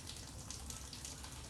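Water from a fish tank being poured out, a quiet, continuous splashing gush that runs steadily without breaks, faint and alone.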